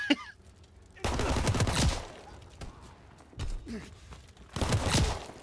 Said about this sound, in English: Oh, sniped him with one bullet.